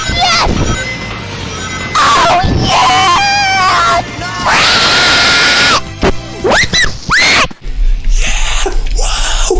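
A loud inserted sound effect of Sonic fans screaming, shrill wailing cries that rise and cut off in bursts, with abrupt breaks and harsh crashing edits.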